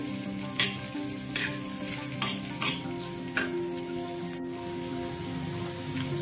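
Onion roasting in oil in a pan over medium heat for a Saoji mutton curry, giving a steady close sizzle and frying crackle with occasional stirring scrapes and clinks, no voices.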